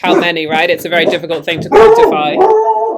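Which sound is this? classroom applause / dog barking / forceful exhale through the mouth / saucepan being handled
dog barking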